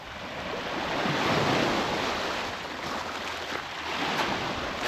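Surf breaking on a beach at Bass Harbor, Maine, a steady broadband wash of waves rising and falling with wind noise, no voices.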